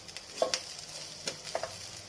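Spatula stirring Szechuan fried rice masala in a hot pan, a few soft scraping strokes over a faint sizzle, close and quiet with no talk.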